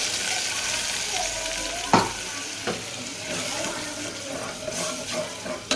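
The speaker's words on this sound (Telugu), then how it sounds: "ఇప్పుడు ఇందులోకి వాటర్ యాడ్ చేసుకోవాలండి." Water is poured into a pan of sizzling ginger-garlic masala for a stuffed brinjal curry, giving a steady loud hiss and bubbling close up, broken by a few utensil knocks, with no speech.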